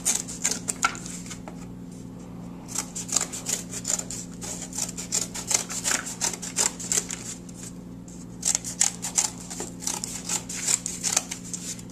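Scissors cutting cardboard pieces for a homemade mask, a long run of crisp rapid snips and rustles up close over a steady low hum, with short pauses between cuts.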